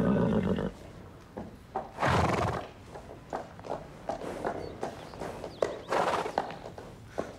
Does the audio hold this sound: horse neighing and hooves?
yes